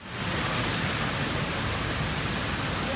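Steady, dense hiss of heavy rain in Pakistan, continuous and even throughout with no voices.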